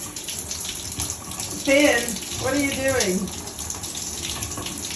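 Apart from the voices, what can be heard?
shower water running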